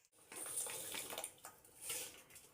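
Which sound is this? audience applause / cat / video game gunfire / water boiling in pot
water boiling in pot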